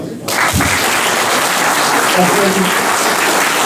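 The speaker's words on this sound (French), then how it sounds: "je pense que vous pouvez l'applaudir" An audience bursts into loud, sustained applause at an awards ceremony during a New Year's event in Crouy where youth and sport medals are presented. A voice is briefly heard within the clapping.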